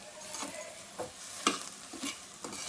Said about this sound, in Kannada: ಒಗ್ಗರಣೆಯಲ್ಲಿ ನೀಟಾಗಿ ಅದು ಎಣ್ಣೆ ಜೊತೆಗೆ ಫ್ರೈ ಆಗಬೇಕಾಗುತ್ತೆ ಅಕ್ಕಿ